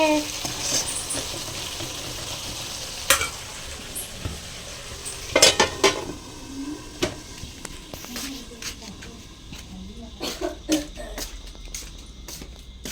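Food sizzles steadily in a pan while a utensil scrapes and clinks now and then; a voice talks intermittently over the cooking.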